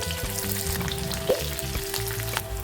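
Chana dal, dried red chillies, green chillies and curry leaves frying for ragi flour upma, giving a steady close sizzle and crackle with occasional stirring taps, no talk.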